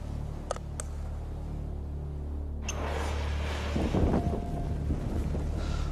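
Fuel-soaked cloth catching fire and burning with big yellow flames: a sudden rush of broadband roar erupts midway, swelling into a steady, fairly close crackling burn that continues to the end.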